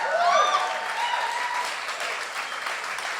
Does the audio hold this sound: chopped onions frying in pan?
no